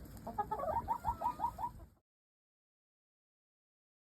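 A flock of chickens clucks outdoors in sunshine, a close rhythmic series of clucks for about two seconds before the sound cuts to silence.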